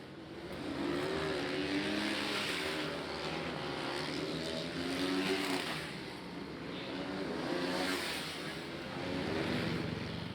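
Supermoto race bikes, including a TM, rumble and rev through the pit lane at a Sparta, Greece round in the closing minutes of qualifying, a continuous engine drone with rising and falling throttle swells.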